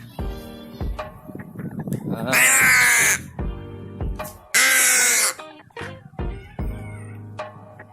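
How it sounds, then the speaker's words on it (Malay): A crow caws twice in loud, harsh, drawn-out bursts near the white desert of Gurun Putih Lestari in Jantho, Aceh Besar, between bouts of nearby speech and other short calls. "Ni burung gagak ni."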